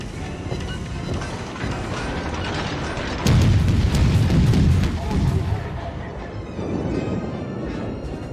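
Rapid volleys from the guns of the American Tier III cruiser St. Louis in World of Warships, a dense rumbling barrage of booms that swells loudly in the middle and keeps pounding steadily throughout.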